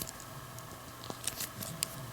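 Scissors being opened on a Victorinox Super Tinker Swiss Army knife: faint, close metallic clicks and small snaps, several light ticks spaced over about two seconds against a quiet room.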